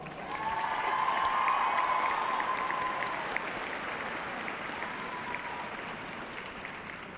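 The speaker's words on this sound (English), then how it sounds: "please join me in showing your appreciation for these very important people in your lives with a generous round of applause" An audience at a university commencement ceremony gives a warm round of applause that swells early, then gradually thins and softens. Many hands clap in a large hall.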